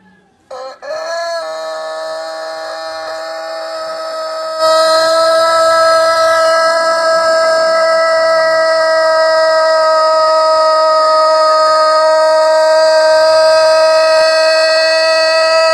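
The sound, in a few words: rooster crowing, imitating air raid sirens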